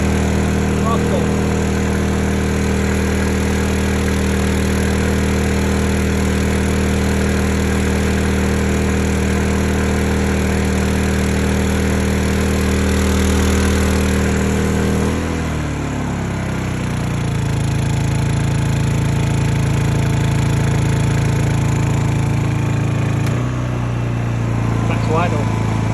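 A Honda EU2000i inverter generator, suffering idle issues, runs close and loud with a steady engine drone, its pitch shifting partway through as the speed changes.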